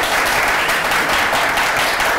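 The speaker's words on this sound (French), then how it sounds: "je vais demander à mon public de vous applaudir très fort" Loud, dense applause from a live audience at a francophone stage performance, a continuous roar of many hands clapping close and full for a couple of seconds without speech.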